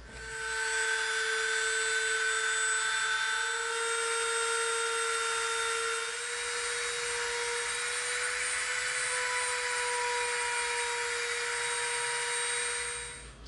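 Dremel rotary tool grinding EVA foam for a Destiny hunter knife prop, a steady high-pitched whine with a constant motor tone that dips slightly midway, running alone without speech.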